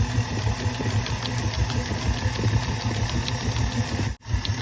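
A mixer runs on high speed blending shea butter, giving a continuous close motor whir with a slight rattle and a brief dip near the end.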